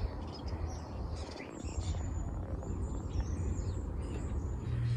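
Small birds chirp faintly in an outdoor natural setting, scattered high tweets over a steady low background rumble, with no talking.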